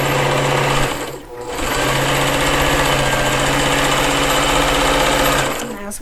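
A sewing machine drives steadily through thick fabric for dimensional pieces, a loud continuous mechanical hum with a brief dip early on before resuming at full speed until it stops near the end.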